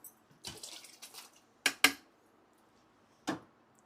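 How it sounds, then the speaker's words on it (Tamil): Homemade butter made from milk cream is dropped into water in a bowl, giving a few brief splashes, wet drips and light clinks against the bowl, separated by quiet pauses. "இப்போ இதையுமே நம்ம தண்ணியில் போட்டுடலாம்"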